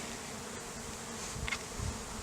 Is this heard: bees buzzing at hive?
yes